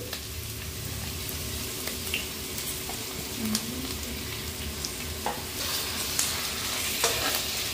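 Chicken pieces being stir-fried in a pan with onion, ginger and garlic: a steady sizzle with scattered scrapes and clinks of a spatula stirring, close and continuous, no talking.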